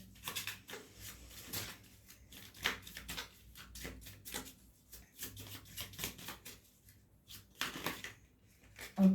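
Tarot cards shuffled and drawn, irregular bursts of papery flicks and slaps, some quick runs and pauses between, close and fairly soft with no talk.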